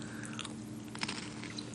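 Close-up crunchy chewing of Beaver Nuggets, a caramel-coated corn snack, with quiet repeated crisp bites and mastication over about two seconds and no talking.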